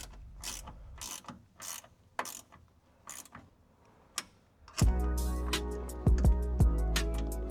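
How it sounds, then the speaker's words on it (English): A ratcheting wrench works the door stopper bolts on a Nissan 350Z/G35: a run of close, crisp ratchet clicks in uneven bursts, then a denser, louder stretch of metallic clicking and grinding. "So I will be using my ratcheting wrench."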